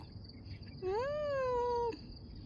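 A stray cat gives one clear, close, drawn-out meow lasting about a second over a quiet background with faint insect-like chirping.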